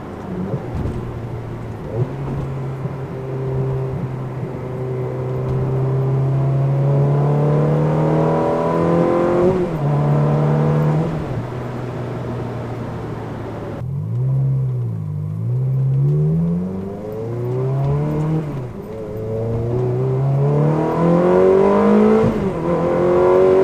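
A BMW M3 at a car meet near La Fère is heard revving and shifting through several gears, its engine note rising in repeated sweeps, loud and close as it races past with no talk.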